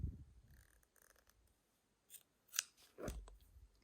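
Scissors snip through leftover crochet yarn while finishing a handmade headband: a few short, close, quiet cuts with small rustles in between and no voices.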